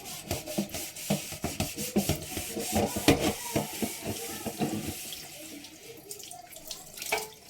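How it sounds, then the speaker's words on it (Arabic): Tap water runs steadily into a sink while food residue is rinsed off dishes, with rapid close rubbing and scrubbing strokes over the flow, no talking. "انا دلوقتي بنزل بواقي الاكل مش بغسل"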